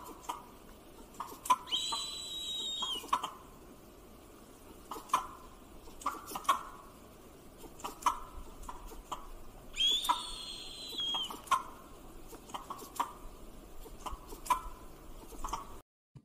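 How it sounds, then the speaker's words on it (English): Lemur alarm calls in the wild: repeated short chirping calls spaced through the scene, with a hawk's higher whistled calls rising over them twice, all at moderate distance against a quiet outdoor background. "you're going to hear them make their alarm call"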